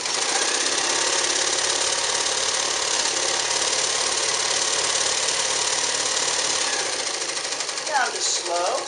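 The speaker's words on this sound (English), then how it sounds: "Let's sew fast." A Nelco zigzag sewing machine sews a straight stitch at high speed, producing a loud, fast, even mechanical whirring and knocking that runs steadily, then slows and breaks up into brief sounds at the close.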